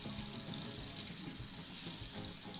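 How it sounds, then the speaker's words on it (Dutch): Cold water runs steadily from a kitchen or bathroom tap into a sink, a continuous close splashing rush with no pauses and no voices. "Een hele koude kraan, het is allerkoudst."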